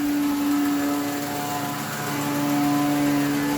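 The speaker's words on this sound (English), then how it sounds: "like the old muffler's leaking in here" Steady, loud drone of an old car engine idling with a leaking muffler, a constant close rumble with a strong steady tone and no talk.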